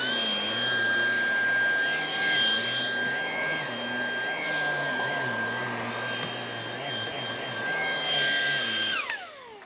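Lupe Pure cordless vacuum cleaner running, a steady close whirring motor drone with a high whine and shifting airflow as it moves over the floor, winding down at the very end.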